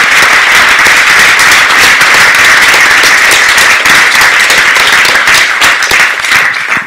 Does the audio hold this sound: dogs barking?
no